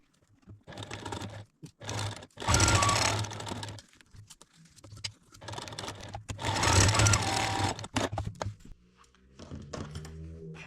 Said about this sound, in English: So I'm going to sew these 2 seams